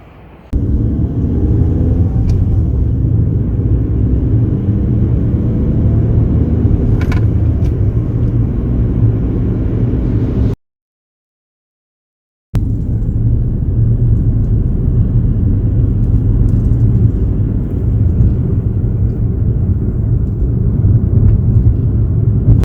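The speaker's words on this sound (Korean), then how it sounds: "이제 주행하면서 소음이 정말 많이 줄었는지는 제가 한번 주행하면서 테스트를 해보겠습니다." Chevrolet Matiz Creative driving after hood soundproofing was fitted, a steady low road and engine rumble heard from inside the cabin, broken by a brief silent gap midway.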